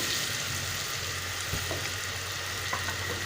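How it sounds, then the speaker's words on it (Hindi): Onions seasoned with salt and chili fry in hot ghee for a kadu (pumpkin) dish, giving a steady, fairly faint sizzle with a couple of soft stirring clicks and no talking. "घी गरम हो गया और हमने इसमें प्याज डाल दिया है"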